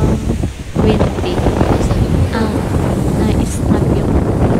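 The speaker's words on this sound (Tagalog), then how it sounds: "Kaso, sobrang alon, sobrang windy." Strong wind buffets the microphone at a rocky seaside fishing spot, with surf and waves rushing underneath in a steady, loud roar that never lets up.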